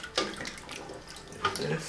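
Liquid from a can poured into a cooking pot of menudo, a splashing, gurgling stream in two short bursts, close and with no talk.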